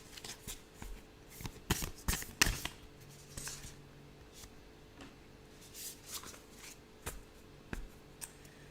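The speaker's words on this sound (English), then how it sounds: "I'm just going to get one card out." A single tarot card drawn from a deck, with soft papery slides, flicks and taps in a quiet room, several brief rustling bursts clustered early and scattered later.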